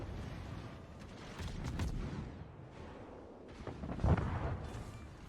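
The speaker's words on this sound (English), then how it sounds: "I can finish him with my guns" Naval guns fire from a destroyer in a warship battle game, a run of deep booming shots with rumbling impacts over steady battle noise, one heavier blast standing out near the end.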